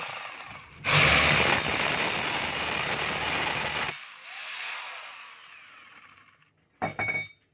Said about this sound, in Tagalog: Ito po yung may hammer, maingay.